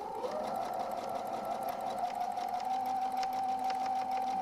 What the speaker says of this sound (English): I'm not used to these kind of sewing machines